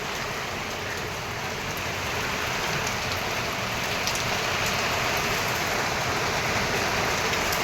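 Steady, dense rain falls on surfaces, with water dripping and pouring from roof eaves, forming a continuous close hiss with no voices.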